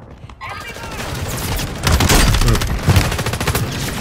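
Rapid video-game gunfire in dense bursts and sustained volleys, loud and continuous, with a voice partly underneath.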